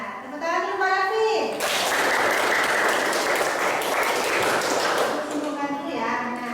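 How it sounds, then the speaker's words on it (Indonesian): A class bursts into a few seconds of lively applause for a teacher during an Islamic history lesson, with a voice speaking just before and again after the clapping. "Nah, tepuk tangan dulu Pak Raffi."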